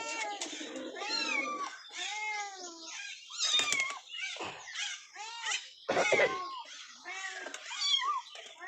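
A mother cat yowls and meows in repeated loud, drawn-out cries, wailing in distress after her kittens drowned, with several overlapping calls close by.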